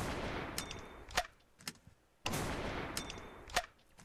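Gunfire in the Screencheat video game, two loud, sharp bursts roughly two seconds apart, each followed by a few quicker snapping shots and decaying echoes, with no speech.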